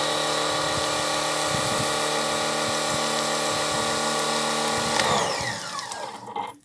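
Foam cleaner sprayed onto a gate, heard as a close, steady motorized whine and hiss that holds level for several seconds, then sweeps down and fades as the spraying stops.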